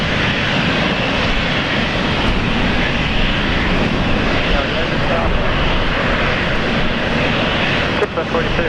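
Korean Air Boeing 777 jet at Brisbane Airport, a steady broad engine roar held at constant loudness throughout, with people talking over it.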